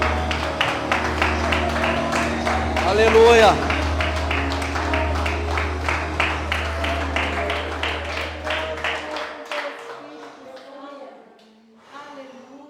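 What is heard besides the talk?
congregation clapping hands in praise at church service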